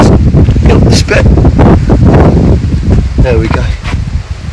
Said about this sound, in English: We've got a boom mic on because it's so windy.